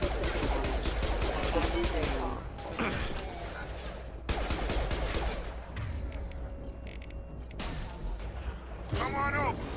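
Gunfire and explosions from combat in the video game Mass Effect 2 Legendary Edition, dense bursts and booms running nearly throughout, with game voices speaking over the battle.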